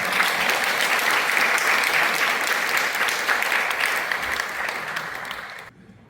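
A church congregation's welcoming applause at an anniversary Sunday event, loud, full clapping from many people held steady for about five seconds before fading out at the end.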